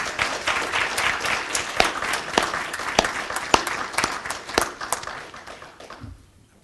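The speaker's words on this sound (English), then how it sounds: "Give these gentlemen a round of applause," Audience applause for symposium panelists, dense, sustained clapping from a room full of people that tails off quickly at the end.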